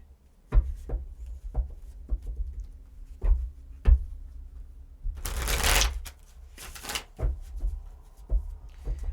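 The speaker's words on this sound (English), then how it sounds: "let's get some tarot cards" Tarot cards being shuffled by hand at close range, with several crisp riffles and bridge-like bursts of card flutter separated by soft taps and handling noises, no talking.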